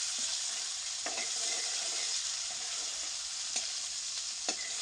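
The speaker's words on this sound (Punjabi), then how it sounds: "ਹੁਣ ਆਪਾਂ ਇਹਦੇ ਵਿੱਚ ਪਿਆਜ਼ ਐਡ ਕਰ ਦਿੰਨੇ ਆ ਪਿਆਜ਼ਾਂ ਨੂੰ ਆਪਾਂ ਬਰਾਊਨ ਹੁੰਦੇ ਤੱਕ ਪਕਾ ਲੈਣੇ" Onions added to lightly browned garlic fry in a pan with a constant close sizzle, while occasional spoon taps and stirring clicks punctuate the hiss.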